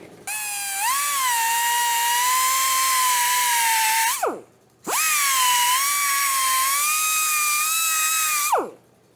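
A high-speed die grinder whines steadily while grinding an engine block for stroker crankshaft clearance, in two long passes that each end as the tool spins down.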